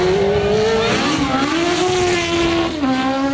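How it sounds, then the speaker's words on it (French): Vintage Formula 1 race cars, including a 1970s McLaren, roar loudly at a revival Grand Prix at Nivelles-Baulers, a sustained high engine howl shifting pitch as they rev and pass close by. "Les moteurs vrombissent sous l'œil admiratif des spectateurs."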